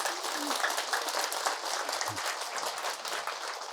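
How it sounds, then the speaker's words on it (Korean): Temple anniversary ceremony crowd gives a steady, broad round of applause, continuous dense clapping heard from amid the hall at moderate loudness. "다시 큰 박수로 한번 시작합시다."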